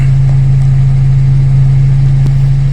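Toyota Corolla Bigbody GLi engine idling fast while still cold, a loud, steady low drone with constant pitch and no variation, heard up close with no talking over it.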